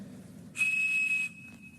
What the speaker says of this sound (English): This guy, right here, the Captain Crunch whistle.